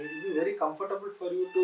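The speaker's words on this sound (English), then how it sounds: "I'm sorry, that's our cat." A house cat meows loudly nearby, a drawn-out wavering cry that runs beneath a man's speech.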